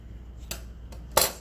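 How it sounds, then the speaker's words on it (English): Paper being cut into a small craft tag with scissors, two crisp snips, the second louder and closer, over a quiet room hum with no talking. "I'm going to go ahead and cut this into a tag"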